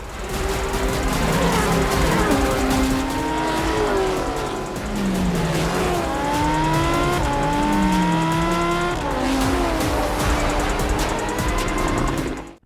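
Race cars roaring around a track in a film scene, engines revving and shifting through rising and falling pitches, several motors overlapping loudly and continuously with some tire squeal, under faint talk.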